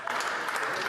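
Applause from members in the House of Commons chamber, a dense steady wash of clapping heard briefly at moderate volume, with a voice speaking over it.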